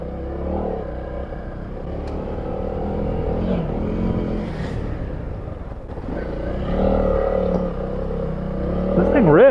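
A Honda CRF300L dual-sport motorcycle rides off-road on dirt trails, its engine droning and surging steadily up close, with a person talking over the ride throughout.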